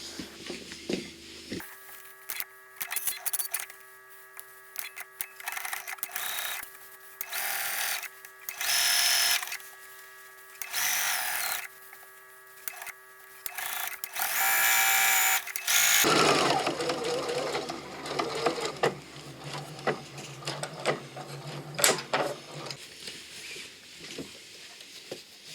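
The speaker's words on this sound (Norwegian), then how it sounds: "Så kaster jeg over, og så syr jeg en stikning for å sy ned sømmene." A sewing machine stitches down the seams on the back piece of a button-front shirt dress, running in bursts of fast, close, steady whirring, then one longer continuous run with no talking.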